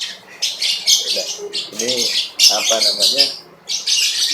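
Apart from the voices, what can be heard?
pet bird squawking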